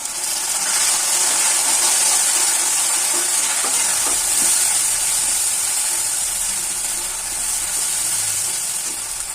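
Ginger, garlic and onion paste hits a hot pan of lightly fried onion for an egg curry, producing a loud, steady hiss and sizzle that holds for several seconds.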